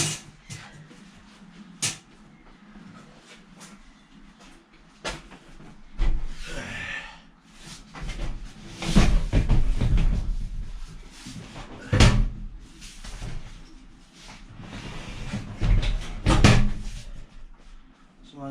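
A seat going in through the side door of a VW Transporter T5 van being converted to a campervan, giving thuds, knocks and scraping bumps that grow louder mid-clip, close up, with some voice between the knocks.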